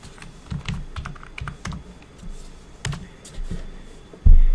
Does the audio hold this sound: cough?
no